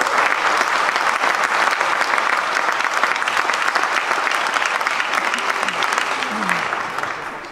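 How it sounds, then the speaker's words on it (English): A conference audience in Dublin applauds and cheers loudly and continuously, a dense crowd clapping that slowly fades toward the end. "Can we have a cheer for Tom in France, please?"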